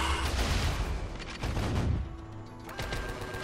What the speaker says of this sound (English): Minigun, fire!